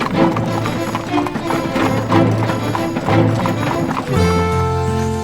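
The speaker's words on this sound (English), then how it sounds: "horse and carriage journey in the Tisza" Steady clip-clop of horse hooves pulling a carriage on the Great Hungarian Plain near the Tisza, loud and close, with a rhythmic trotting beat throughout and a possible voice faintly underneath.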